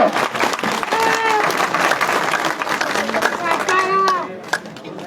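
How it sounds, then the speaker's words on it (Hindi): Loud crowd applause at a village panchayat gathering, steady clapping filling the whole stretch with voices and shouts mixed in, easing slightly near the end. "जोरदार तालियां इस हौसले के लिए।"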